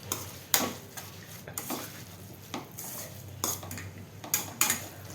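A utensil stirs and scrapes through avalakki (poha) seasoning with curry leaves, coriander and peanuts in a pan, giving irregular metallic clinks and scrapes close by over a faint sizzle, with no talking.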